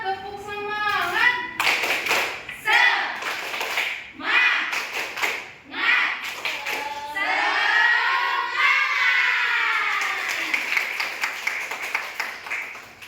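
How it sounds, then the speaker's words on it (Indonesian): A class of fifth-grade children performs a rhythmic spirit clap in an Indonesian classroom, bursts of sharp patterned claps alternating with loud chanted voices and shouting, close and lively. "Kelas 5, tepuk semangat."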